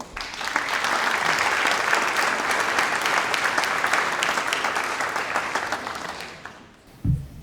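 A large audience of university staff and faculty applauds to welcome the president to the stage at a welcome-back celebration. The clapping is loud, dense and sustained for about six seconds, then tapers off, with a brief thump at the very end.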